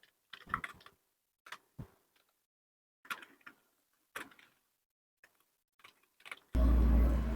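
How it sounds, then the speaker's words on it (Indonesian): Keys on a computer keyboard are tapped out in short, scattered clusters while a prompt is typed, with quiet close clicks and pauses between them, and a loud broadband noise burst arrives at the very end. "Cukup ketik seperti ini."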